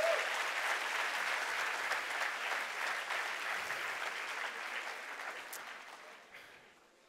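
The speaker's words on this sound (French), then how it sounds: "Est-ce qu'on peut applaudir le Seigneur ce matin," A church congregation claps at a morning service, a dense, even wash of applause from many hands that holds steady and then gradually tapers off toward the end.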